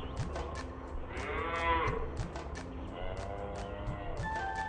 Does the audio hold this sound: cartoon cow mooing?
yes